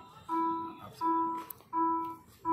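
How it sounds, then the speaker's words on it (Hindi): Turn indicator chime of an OLA S1 Pro electric scooter, four evenly spaced tonal beeps repeating in a steady rhythm, close and clear with no talking. "इसकी आवाज़ जो है काफ़ी सही लगती है इंडिकेटर की"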